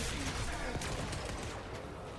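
Rapid gunfire in the sci-fi shooter Warframe, a dense continuous spray of shots with game effects, loud and steady throughout with faint voice in the mix.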